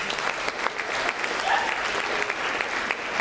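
An audience at a talent show claps steadily for the judges, a continuous wash of applause with a faint voice briefly audible underneath.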